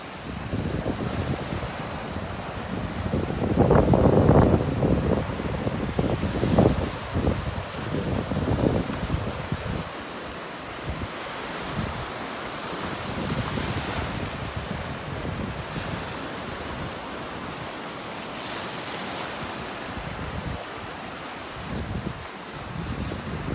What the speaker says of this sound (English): It's the sounds of the waves out here.